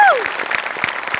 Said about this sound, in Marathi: सगळ्यात आधी सेटिंग डिपार्टमेंटसाठी टाळ्या.